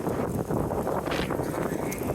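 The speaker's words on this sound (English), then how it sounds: "I got a wicked headwind pushing me backwards." Strong headwind buffeting a cyclist on hot hill climbs near Choluteca, Honduras, a steady loud broadband roar of wind across the microphone throughout with no talk.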